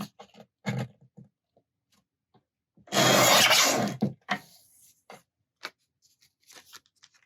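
Cutting glassine paper, a close, crisp rasping swish of about a second, surrounded by small scattered crinkles and taps of handling in an otherwise quiet room.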